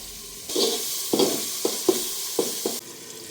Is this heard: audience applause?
no